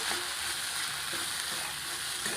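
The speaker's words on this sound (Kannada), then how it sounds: "ಈಗ ಇದೆಲ್ಲ ಟೊಮೆಟೊ, ಕೊತ್ತಂಬರಿ, ಶುಂಠಿ, ಗೋಡಂಬಿ, ಕಾಯಿ ಒಂದು ಸ್ವಲ್ಪ ಹಾಕ್ಕೊಳ್ಳಿ" Tomato, coriander, ginger, cashew and coconut fry in a hot pan, giving a steady soft hiss with faint periodic stirring scrapes, quiet and without speech.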